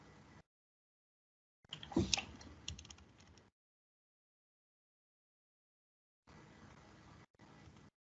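Keys on a computer keyboard clatter in short bursts, with a busy flurry of taps followed by pauses and two briefer runs of typing later on, heard close and fairly quiet.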